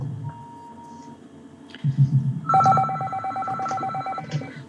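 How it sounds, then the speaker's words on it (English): A phone rings in a town council meeting room, a steady electronic ringtone pattern coming in partway through and continuing to the end, moderately loud over low room murmur and background voices. "Somebody's phone's ringing."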